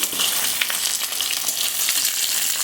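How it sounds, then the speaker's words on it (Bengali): A catla fish head fries in hot mustard oil with a loud, steady, crackling sizzle and scattered sharp spits and pops, heard alone with no talking. "এই যে মাথা আমার অলমোস্ট ভাজা হয়ে গেছে, এখন নামিয়ে নেব।"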